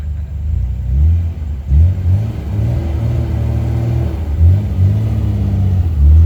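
An Ultima sports car engine revs hard in repeated bursts, deep throaty rumbles rising and falling close by with brief pauses between throttle blips.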